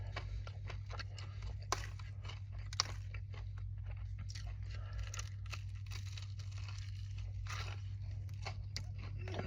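Crunchy Popeyes fried food is bitten and chewed up close in repeated crisp crunches over a steady low hum, with faint talk at times.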